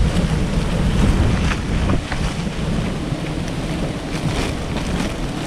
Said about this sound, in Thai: ลมแรงจริงครับผม